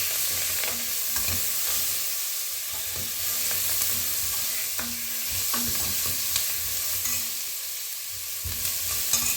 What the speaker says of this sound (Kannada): ಇದನ್ನೆಲ್ಲ ಸ್ವಲ್ಪ ಚೆನ್ನಾಗಿ ಮಿಕ್ಸ್ ಮಾಡ್ಕೊಳ್ಳೋಣ.